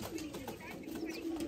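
Pigeons coo softly in a low, repeated murmur beneath a voice talking over them, close and continuous through the short moment.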